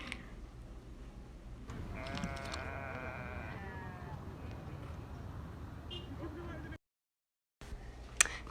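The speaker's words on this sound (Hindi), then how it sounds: "ये रहा बकरा जो पापा और अंकल लेकर खड़े हैं" A goat bought for Eid al-Adha bleats a few times at close range, short nasal cries over outdoor street noise and nearby chatter.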